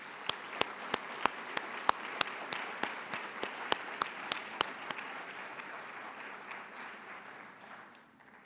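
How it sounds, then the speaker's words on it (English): A conference audience at a university innovation panel claps for the presenters: a few sharp, close individual claps ring out over steady, moderate applause that gradually tapers off. "I ask you to join me in giving an appreciative clap to all our presenters today"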